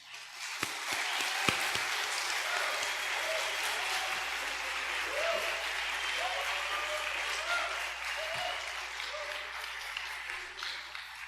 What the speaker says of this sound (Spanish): démosle otro aplauso